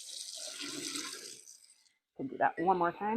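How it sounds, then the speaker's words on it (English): Hot water runs and splashes into a fermenting vessel being rinsed of sugar, a steady rushing flow for under two seconds that stops before a person speaks. "So I'm just going to rinse this and try and get all the sugar out of it."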